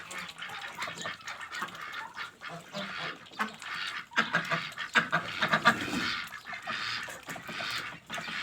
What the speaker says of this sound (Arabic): زي ما انتم شايفين البط يعني يعتبر بيشرب وبيستحمى في نفس الوقت